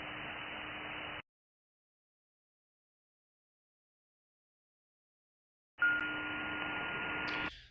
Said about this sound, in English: I'm hearing some tones there.